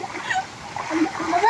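Water splashes briefly at an outdoor swimming pool in the mountains, close and fairly loud, with people talking over it.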